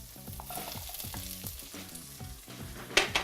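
Carrots and spices frying in a pan for an Indian-style Swiss chard and chickpea dish, with a steady sizzle, stirring scrapes and clatter, and background music, ending in a brighter burst of sizzle.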